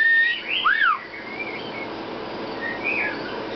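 A pet bird gives a few bright, swooping whistles, one loud rising-and-falling note early on and a fainter chirpy whistle near the end, heard close against a quiet room hum.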